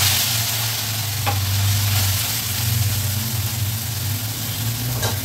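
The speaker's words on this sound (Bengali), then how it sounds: "ভালো করে গরম হলে ছোট কড়াইটা দিয়েছি, তাহলে ভাজাটা ভালো হবে।" Fish fries in hot oil spread thinly in a small wok, giving a steady loud sizzle over a low constant hum, with a couple of faint clinks.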